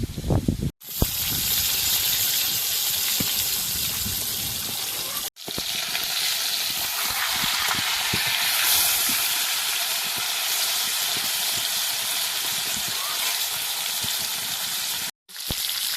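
Pomfret fish frying in oil in a kadai, a loud, continuous crackling sizzle close by, broken by a few abrupt silent gaps, with no talking.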